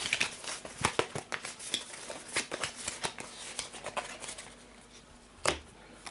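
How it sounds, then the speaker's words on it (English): Deck of cards being shuffled during a Pathfinder Skull & Shackles card game session, close and quiet riffles and crisp card snaps in irregular bursts, with one louder slap near the end. "Let me shuffle the deck, because I had to go through it."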